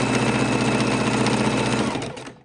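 Sewing machine running steadily in reverse over appliqué fabric, a continuous close whirring hum of rapid stitches that winds down and stops near the end.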